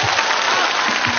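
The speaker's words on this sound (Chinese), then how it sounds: "谢谢大家的掌声，谢谢。" A brief burst of dense audience applause in a television studio show, loud and continuous through the whole short stretch.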